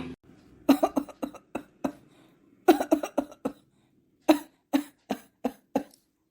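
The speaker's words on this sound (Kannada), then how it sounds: "ಅದಕ್ಕೆ ಅಷ್ಟೊಂದು ಕೆಮ್ತಾ ಇದೆಯಾ" Repeated coughing in bursts, a cluster of sharp coughs, a short pause, then another run of several coughs, close and fairly loud.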